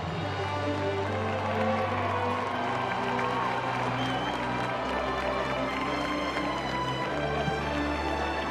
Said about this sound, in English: outside the crowd is clamoring for me